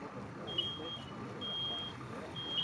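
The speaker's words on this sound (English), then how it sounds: "you've already heard the smoke alarm go off" A high electronic smoke alarm beeps in long repeated tones over a low rumbling background, moderately faint, during a room fire burn demonstration in Rhode Island.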